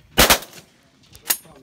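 Two sharp shotgun blasts ring out during a pigeon hunt near the AJK border in Pakistan, with a loud double report at the start and a second, slightly softer shot about a second later.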